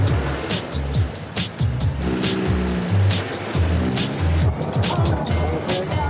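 A Porsche sports car drives along a road with a steady engine drone and road rumble, broken by a rapid run of sharp rhythmic clicks and thumps, and a voice speaking briefly over it.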